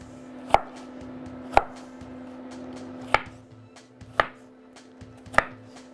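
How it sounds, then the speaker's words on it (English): A knife chops onions on a board for a beef stew, landing five sharp, well-spaced cuts against a quiet background hum with faint softer taps between them. "I don't cry quite as quickly cutting onions anymore."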